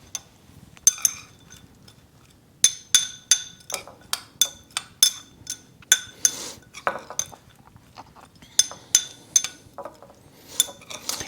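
A metal spoon clinks and scrapes against a dish while mixing rehydrated freeze-dried hamburger, giving a bright, irregular series of close taps and chinks with brief pauses.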